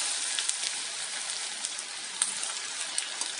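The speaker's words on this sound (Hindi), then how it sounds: "अब भिंडी को फ्राई करते हैं" Okra frying in hot oil over a medium flame, a steady dense crackling sizzle with scattered sharp pops, close and continuous throughout with no talking.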